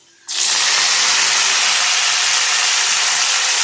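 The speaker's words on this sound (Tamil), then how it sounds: "நான் எடுத்து வச்சுருக்கிற புதினாவை சேர்க்க போகிறேன்" Mint leaves hit a hot pan and burst into a loud, sudden hiss that stays steady and close until the end.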